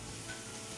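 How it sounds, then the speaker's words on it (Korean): Vegetables stir-fry in a pan for a Korean bulgogi pasta, a soft, even sizzle heard briefly and quietly on its own. "이렇게 채소를 볶아주다가"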